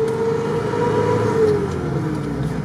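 A modified Toyota off-roader with a Mercedes 606 diesel engine drives on sand, its engine droning steadily nearby with a slight rise and fall in pitch as it pulls.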